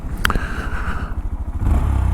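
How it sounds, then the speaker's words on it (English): A Honda Monkey motorcycle accelerating in fourth gear during a sprocket-change test, its engine a close, steady, throbbing drone with a sharp clatter near the start. "we will do an acceleration test"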